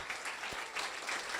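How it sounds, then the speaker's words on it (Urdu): A church congregation claps loudly in a sustained burst of applause that lasts throughout, with a faint voice underneath. "زوردار تالیاں."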